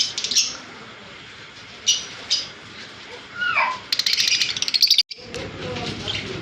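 Seven-month-old Fischer's lovebirds chirp close by in short, sharp bursts, then a dense rapid flurry of calls before a brief pause.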